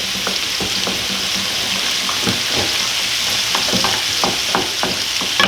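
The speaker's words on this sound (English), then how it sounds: "So basically just stir everything. Lots of stirring." Sauerkraut browns in a pot, with a constant loud sizzle and frying hiss while a spoon or spurtle stirs it, giving irregular scraping knocks against the pot, close up with no voices.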